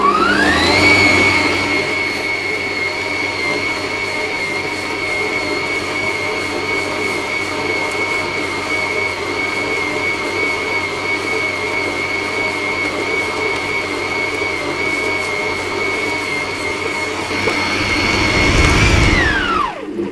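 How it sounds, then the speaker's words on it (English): A stand mixer with a dough hook kneads saffron bun dough at medium speed. Its motor whirs up at the start, then holds a loud, steady droning whine throughout, with a brief surge before it stops. "with my dough hook attached, I'm going to knead that on a medium speed"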